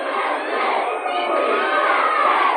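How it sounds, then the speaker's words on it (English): A wrestling crowd in Portland chants USA, a loud, steady roar of many voices that fills the whole moment without letting up. "The crowd chanting USA"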